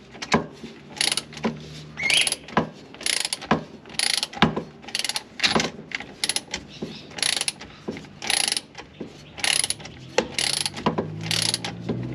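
A Milwaukee Fuel power tool works on the axle of a Mk4 Toyota Supra. It gives repeated short, loud mechanical ratcheting bursts with brief pauses between them, close to the listener.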